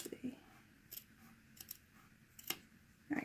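Scissors snip through fabric while trimming bias binding around a curve, a few faint, sparse cuts spaced across a quiet stretch with soft speech-like murmurs in the background.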